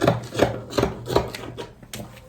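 Steel scissors snip notches into the seam allowance of fabric for a leg of mutton sleeve, giving about five short, crisp cuts in a steady rhythm, close and clear with no talking.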